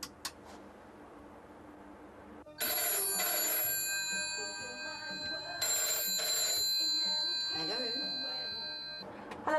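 A telephone rings loudly in two long bursts of bright electronic tones, with a brief gap between them and faint murmured voices in the background.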